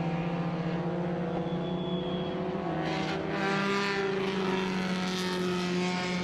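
A vintage MGA races at Watkins Glen in an SVRA Group 1 feature race. The engine gives a steady, loud, buzzing drone that holds a near-constant pitch throughout, with no speech.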